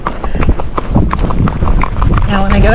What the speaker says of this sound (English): See, she's racking now.